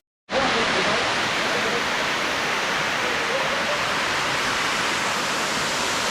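Jhorjhori, the first waterfall on the Napittachhara trail, roars as a steady, loud, dense rush of falling water that starts abruptly and holds unchanged, heard close and with nothing else over it.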